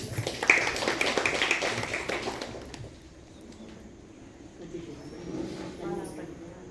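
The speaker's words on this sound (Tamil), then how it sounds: "உங்கள் கைத்தட்டல்கள் மூலம்" An audience welcomes a speaker with a loud burst of applause that fades out after about two and a half seconds, followed by quieter room sounds.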